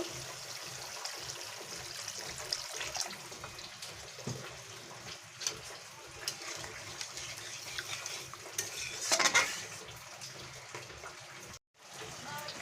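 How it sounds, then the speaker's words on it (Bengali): Water poured into frying mustard-paste masala in a pan for a pabda fish curry, a steady wash of sizzle and liquid splashing with occasional utensil clinks, close and moderately loud, with a brief louder burst near the end. "এবারে আমি এর মধ্যে জল দিয়ে দেব পরিমাণ মতো"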